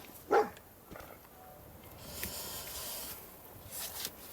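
A dog in the video game Fallout 4 gives one short, sharp bark near the start, followed by quieter snorting and shuffling sounds against a faint game ambience.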